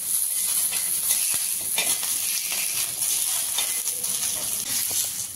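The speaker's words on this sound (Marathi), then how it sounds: "आता ह्या 4 मिरच्या भाजून घेऊ, एकदम कमी तेलामध्ये भाजून घेऊ" Four chilies roast in a small amount of oil in a pan, giving a steady, close, bright sizzle and hiss with occasional stirring scrapes throughout.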